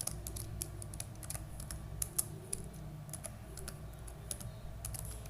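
Computer keyboard typing while entering HTML markup, a steady run of quick, light keystrokes with an irregular rhythm, fairly close and moderately quiet over a low background hum, with no talking.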